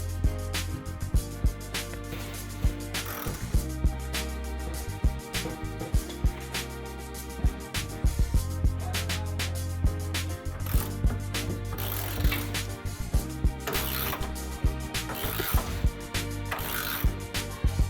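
A ratchet wrench clicks steadily as bolts are tightened on a differential brace being fitted under a car, with repeated ratcheting strokes and metallic clanks throughout, close and fairly loud.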